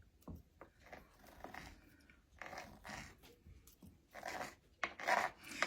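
A knife slicing thin strips of fajita steak against the grain on a board, quiet repeated rasping cuts in an irregular rhythm, close and faint.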